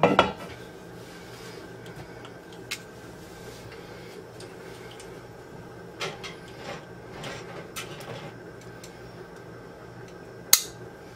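Metal canning lids on jars of sugar-free scrap apple jelly pop as they seal after processing, giving a few sharp, isolated clicks and pings spaced over a quiet background, one louder pop near the end.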